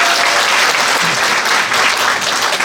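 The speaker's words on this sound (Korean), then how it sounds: "정재은 주무관 박수 한번 부탁드리겠습니다." Audience at an education forum in Seongju, Goryeong and Chilgok breaks into steady, dense applause, loud and continuous from start to finish with no voices on top.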